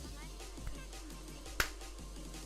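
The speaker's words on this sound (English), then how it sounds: "Oh, it's still picking up the clap." A single sharp hand clap picked up by a streamer's microphone, brief and moderately loud over a low steady background hum.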